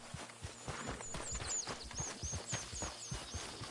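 A horse in the Red Dead Redemption 2 video game clip-clops along in quick, regular hoofbeats, fairly close but quiet, with faint bird chirps above and no talk.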